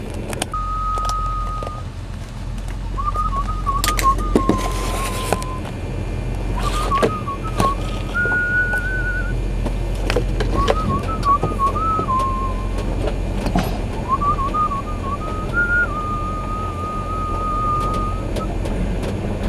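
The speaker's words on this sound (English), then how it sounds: "my spirit just made me open the camera and whistle." Someone whistles a short, wavering tune in repeated phrases over a steady rumble of nearby traffic, with occasional bumps and clicks.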